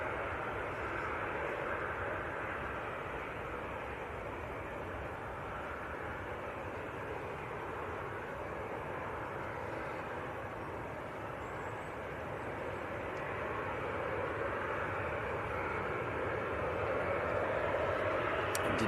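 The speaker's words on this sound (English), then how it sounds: "That was EasyJet to Krakow." An EasyJet jet departing Manchester Airport for Krakow, heard as a steady broadband engine roar that holds at a moderate level and swells slightly toward the end, with no talking.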